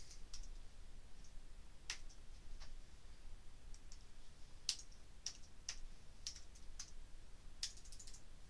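Typing on a computer keyboard, irregular bursts of sharp clicks and key taps scattered over a quiet background, close and fairly crisp, with no speech.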